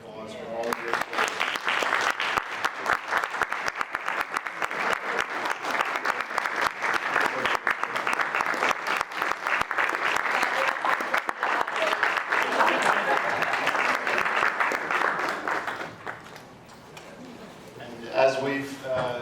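Applause for board members at a board of managers meeting: many hands clap steadily for about sixteen seconds, then fade as a voice begins speaking.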